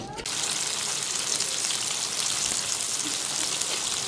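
Boras (fritters) frying on a medium flame, making a steady, even crackling sizzle like light rain that starts abruptly and carries on at the same level.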